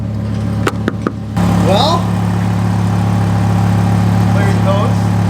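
A GMC Denali truck on 26-inch wheels idles with a steady low engine hum throughout, briefly joined by a few sharp knocks near the start, while a person speaks over it.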